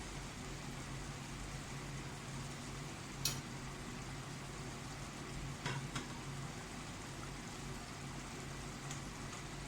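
Cumin seeds tempering in pure ghee give a steady, soft, even sizzle that runs throughout, with a couple of faint clicks and no talking over it.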